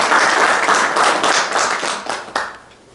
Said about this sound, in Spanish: Bueno, pues les vamos con un aplauso al doctor Juan Flores.